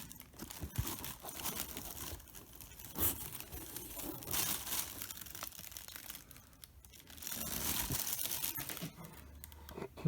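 Packing paper stuffed inside a new boot crinkles and rustles in bursts of crumpling and tearing-like crackle, close and fairly loud, varying in intensity throughout with no talking.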